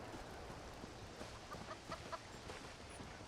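Chickens cluck faintly in scattered soft bursts in The Elder Scrolls Online, set against a quiet, continuous ambient wash with no voices.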